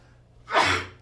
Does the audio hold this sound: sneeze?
yes